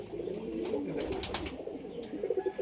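Giribaz pigeons coo in a soft, continuous murmur of low, rounded calls, close by and steady throughout, with faint rustling in the background.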